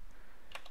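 A few brief keyboard keystrokes on a computer terminal, clicking alone and near in otherwise quiet room tone.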